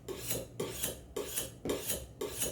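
Steel knife drawn across a sharpening stone in steady, evenly spaced rasping strokes, about five passes in a row, close and fairly quiet with no talk.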